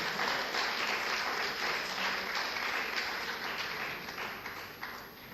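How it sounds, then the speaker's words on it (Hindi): Enthusiastic audience applause at a 2020 Pune mushaira welcoming a poet onto the stage: a thick, continuous wash of many hands clapping that gradually thins and fades toward the end. "मैं चाहता हूं कि ज़ोरदार तालियों में डॉक्टर अंजुम बाराबंकी का इस्तकबाल किया जाए"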